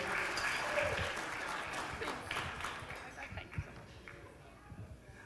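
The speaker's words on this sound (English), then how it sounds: "Let's get one more round of applause, ladies and gentlemen" A round of applause for the maid of honor at a wedding reception in a country inn, loud crowd clapping that gradually thins and fades, with a few scattered claps near the end.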